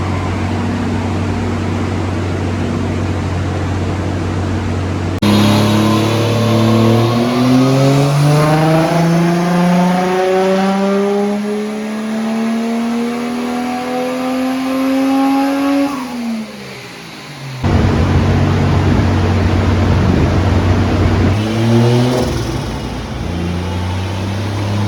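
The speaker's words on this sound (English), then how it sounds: "That one gave me a little scare, standing in front of it for our third dyno pull." A Toyota 1JZ-GTE VVTi engine on its stock turbo revs hard during a dyno pull, a loud, sustained climb in pitch that rises steadily for several seconds, cuts off abruptly, then drops back to a rough idle.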